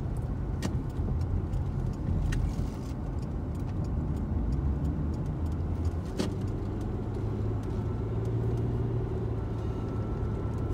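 A car cruising on a motorway at night, heard from inside as a steady low engine and road rumble with constant tyre noise and a few faint ticks, no one talking.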